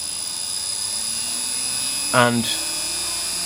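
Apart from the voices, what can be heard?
wood lathe spinning at full speed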